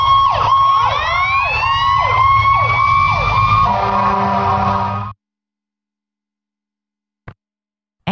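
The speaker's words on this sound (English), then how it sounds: "Fire engine." A fire engine's siren blares loud and close, starting with rapid rising whoops and then shifting to a steady wail before cutting off sharply.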